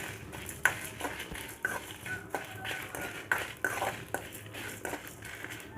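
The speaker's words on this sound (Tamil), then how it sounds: "இப்போ 5-6 வரமிளகாயும் சேர்த்து இந்த ட்ரை ரோஸ்ட் பண்ணிக்கலாம்" Five or six dried red chillies are dry roasted in a pan, with a spatula scraping and clinking against the metal in a steady rhythm of soft knocks and light rattles, close and fairly quiet, with no talking.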